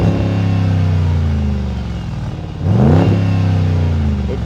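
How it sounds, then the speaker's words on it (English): A Jeep Grand Cherokee SRT's V8 idles with a deep rumble, then revs sharply upward and settles again, loud and close. "Now let's just rev it for a bit."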